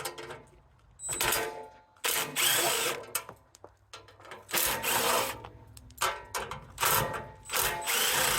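A ratchet or power driver backing bolts out of a Cub Cadet snowblower shield, several loud whirring bursts separated by pauses, close up with no one talking.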